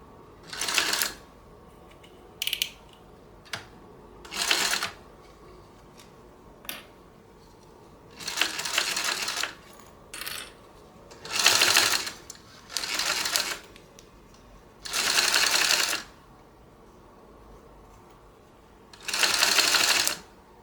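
A sewing machine stitching a 3/8 inch seam while making a sewing pattern project, bursts of fast whirring stitching of varying length separated by quiet pauses, close and clear.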